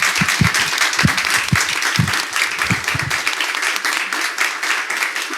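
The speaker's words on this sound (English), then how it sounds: "let's give our panel a round of applause" A crowd at a creative showcase panel applauds, a dense, lively burst of clapping with a few low thumps near the start, continuing steadily for several seconds.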